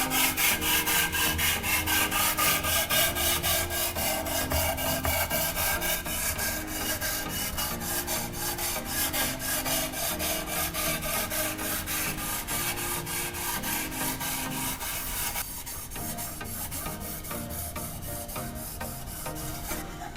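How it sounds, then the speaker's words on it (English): A dull knife blade is sharpened close up on wet P600 sandpaper in fast, even back-and-forth strokes. The gritty rasping runs continuously for about twenty seconds and thins slightly toward the end. "I'll start with the P600 sandpaper. It's coarser and perfect for rough sharpening, which helps thin out the dull blade."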